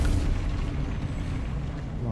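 A fiery Confringo spell blast from Hogwarts Legacy, a dense low rumbling explosion that starts loud and decays into a sustained roar across the whole moment, with game effects layered underneath.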